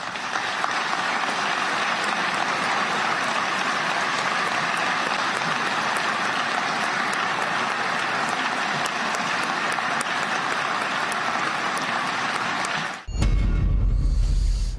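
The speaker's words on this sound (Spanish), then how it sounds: "Largo aplauso" Long applause in a television studio, a dense, steady roar of many hands clapping that holds evenly for about thirteen seconds before cutting off abruptly into a different low rumble.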